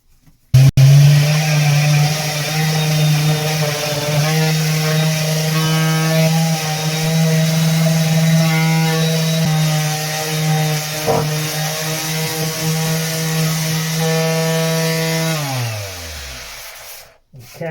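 A power sander grinds steadily across the galley area of a boat, a loud continuous motor hum with a rough buzzing edge that runs for about sixteen seconds before winding down to a stop.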